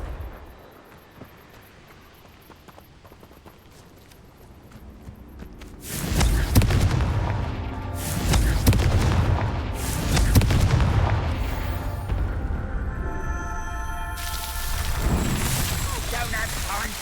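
After a quiet, murmuring stretch, Confringo blasting spells in the video game Hogwarts Legacy set off a run of loud, booming explosions that keep bursting and rumbling over the final ten seconds, with a voice partly present.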